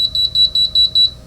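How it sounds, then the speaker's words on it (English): A rapid series of six high-pitched electronic beeps from an Alarm Lock DL2700 keypad door lock, evenly spaced and close, with nothing else heard. "6 beeps is what will happen."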